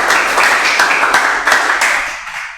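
A classroom of students claps together, a close, bright burst of hand claps with a few sharper accents that tapers off after about two seconds.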